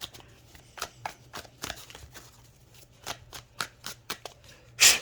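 A deck of tarot cards shuffled by hand in a series of crisp riffling bursts and soft slaps at close range, irregularly spaced, ending in a louder final snap, with no talking.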